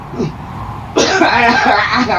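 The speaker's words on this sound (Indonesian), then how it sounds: "maaf ya, kakek batuk sedikit" A single harsh cough bursts out after a moment of quiet, rough and close, trailing into a raspy throat-clearing.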